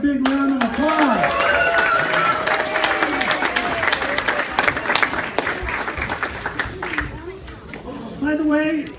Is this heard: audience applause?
yes